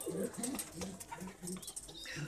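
A pigeon coos softly in low, rounded repeated calls, faint and close, with light background noise around it.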